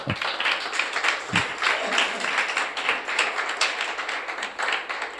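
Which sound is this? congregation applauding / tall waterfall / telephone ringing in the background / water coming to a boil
congregation applauding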